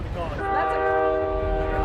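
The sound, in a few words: train passing by stadium, sounding horn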